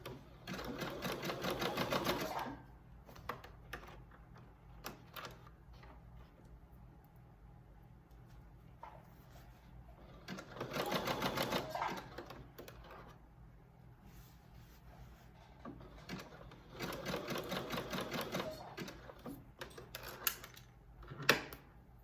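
A sewing machine stitches a paper bag skirt in three loud bursts, each running about two to three seconds, with quiet pauses between them and no talking.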